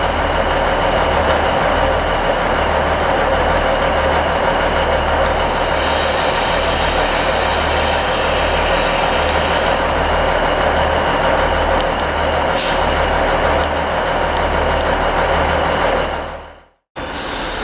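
ScotRail class 156 unit 156474, the 0958 service to Dumfries, rumbles steadily through Carlisle station with a continuous loud engine drone, a long wheel squeal partway through and a sharp clank near the end before cutting off.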